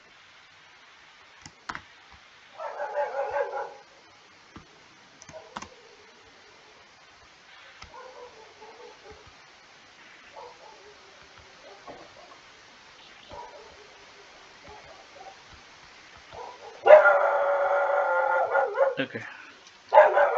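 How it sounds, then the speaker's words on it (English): Dogs bark and howl at night, with short bursts spaced apart and a longer, louder stretch near the end, set back at a moderate distance, while a person occasionally speaks. "Their dogs are barking as it's night."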